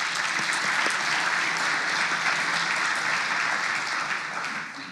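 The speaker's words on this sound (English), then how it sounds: "I want to give another round of applause for that." Audience applause at the CDL Super Session 2026 conference, a full, steady round of clapping from a seated crowd that holds evenly for about five seconds before tapering slightly at the end.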